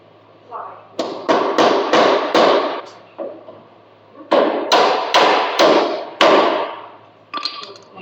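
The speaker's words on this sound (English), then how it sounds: "Hit it with a hammer." A hammer strikes a metal trailer step in two quick bursts of about five sharp, ringing blows each, close by, with a pause between the bursts.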